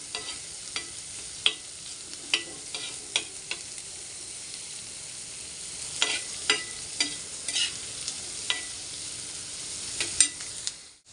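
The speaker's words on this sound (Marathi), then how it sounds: "व्यवस्थित लालसर होईपर्यंत परतवायचं आपल्याला।" Two chopped medium onions sauté in a pan until reddish for a quick egg bhurji, giving a steady close sizzle broken by sharp, irregular clicks of a spoon stirring against the pan, with no talking.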